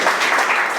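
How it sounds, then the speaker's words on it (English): Audience applause for performers at a poetry evening, a dense, steady wash of clapping filling the short moment without any voices. "please give a huge round of applause for all the performers out here"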